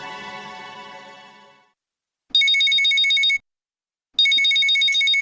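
A telephone rings in two short, bright electronic bursts separated by a pause, loud and close, following a fading musical tone.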